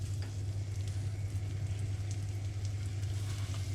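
Pork escalope frying in a hot pan, with a steady, close sizzle and crackle of fat that runs on without a break.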